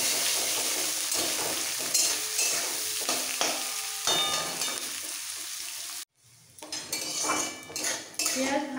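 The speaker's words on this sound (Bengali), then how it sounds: "এবার পেঁয়াজটাকে একটু লাল করে ভেজে দেবো" Chopped onions frying in a pan for a katla fish curry with cauliflower, a steady broadband sizzle with frequent metal spoon clinks and scraping stirs, briefly cutting out near the end before resuming.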